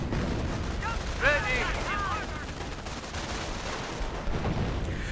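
MG42 machine gun fire and artillery in Company of Heroes 1, a sustained rumble of shooting and distant blasts, with someone talking over the battle throughout.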